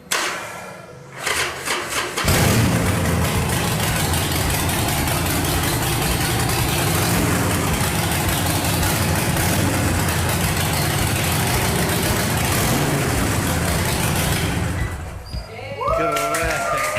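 Big motorcycle engine idling in neutral just after starting, a loud, steady low rumble that holds for many seconds and then dips briefly near the end.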